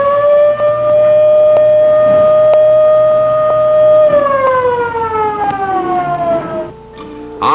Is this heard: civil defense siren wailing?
yes